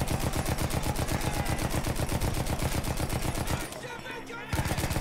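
A turret machine gun in the video game Battlefield 1 hammers out loud, rapid, evenly spaced shots in a long burst, breaks off for under a second, then resumes firing.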